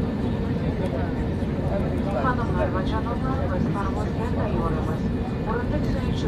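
An airliner's cabin is filled with a steady roar while the plane taxis toward the runway at Tashkent airport in Uzbekistan. The engine whine is constant and moderately loud, with voices faintly underneath.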